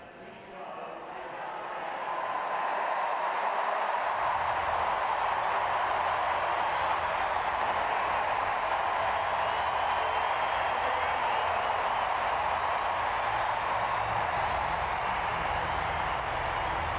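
A large stadium crowd at the London 2012 Paralympic Games roars for home favourite David Devine before the men's T12 800 metres final, a sustained broadband cheer that swells in the first seconds and then holds loud and steady.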